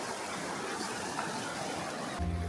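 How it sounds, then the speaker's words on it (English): A river flowing near steaming hot springs gives a steady, broad rushing wash with no voices, and a low rumble swells briefly near the end. "And then you got the river right down there."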